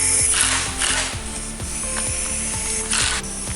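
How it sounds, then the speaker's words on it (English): An impact wrench hammers a strut nut tight on a BMW E46 MacPherson strut, a loud, close, rapid rattling burr with a steady pulsing beat that runs continuously without talk. "now of course you have to use the impact again to get it tight"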